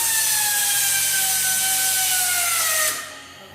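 A pneumatic strapping machine's tensioner runs loud and steady, a whirring air-driven drone with a slowly falling pitch as the strap draws tight, then cuts off sharply near the end.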